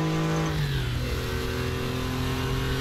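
A Porsche 964 engine in RaceRoom at Bathurst, droning loudly then dropping in pitch as the driver blips the throttle for a downshift, engine tone settling lower and steady afterward.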